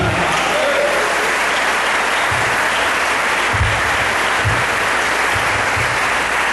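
Congregation in a church breaks into strong, sustained applause, a loud dense wash of many hands clapping at once that holds steady throughout.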